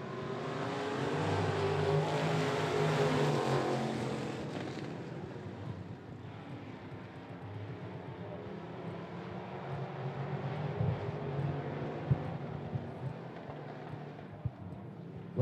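Street stock race cars roar around Talladega Short Track, a loud dense engine wash that swells early, then settles into a steady distant rumble with passing cars rising and fading.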